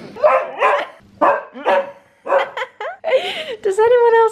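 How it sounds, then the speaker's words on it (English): Pet dog making odd noises as someone approaches slowly, a close run of short yips, whines and whimpering barks in uneven bursts. "Who else's dog makes weird noises when you go up to them slowly?"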